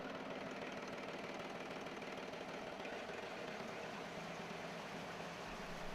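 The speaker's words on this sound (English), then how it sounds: "this historic engine runs once more, its measured rhythm echoing a period when engineering innovation was driven" An old stationary engine runs at a steady idle, its even mechanical chugging continuous and moderately quiet throughout.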